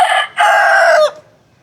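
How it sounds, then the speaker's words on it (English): A rooster crows loudly and close by among chickens in Cebu City, Philippines, in a two-part call: a short opening note, a brief gap, then a long sustained crow that cuts off abruptly, with no other sound around it. "Got some fucking chickens here."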